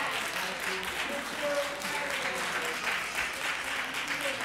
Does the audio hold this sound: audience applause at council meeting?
yes